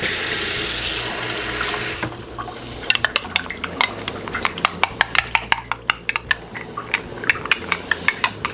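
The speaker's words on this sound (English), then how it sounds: "And I'm gonna fill this up with half a cup of water." Water runs from a tap into a cup for about two seconds while cooking pork shank, then a spoon clinks and taps repeatedly in a quick, uneven rhythm.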